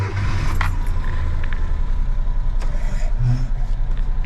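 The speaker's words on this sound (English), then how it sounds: "This is a cold start." A Suzuki Jimny engine idles steadily at low rumble after a cold start, with a constant low hum and occasional faint clicks and ticks over the top.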